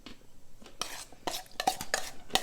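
Salad with a dressing of shallot, garlic scape and julienned banana pepper being tossed in a bowl, giving irregular close clinks, scrapes and wet rustles in short bursts, with no talking.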